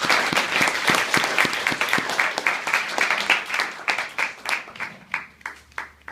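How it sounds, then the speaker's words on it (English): An audience at a debate between a socialist candidate and a Democratic councilman breaks into a round of applause, dense clapping that stays loud and steady before thinning out toward the end. "let's give a round of applause first"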